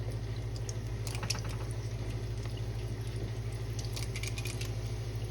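Corn fritter batter scooped into oil heated to about 350 degrees, frying with a steady close bubbling hiss and faint crackles, no talking.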